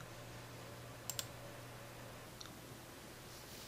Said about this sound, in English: Click on the New button.